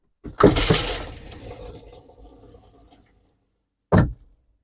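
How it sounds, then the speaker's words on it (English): Antifreeze rushes through an RV toilet's foot-flush valve in a Scamp trailer, a loud gush that fades over a couple of seconds, then a second short burst after a pause. "do the same thing using the foot flush valve to run the antifreeze through the system"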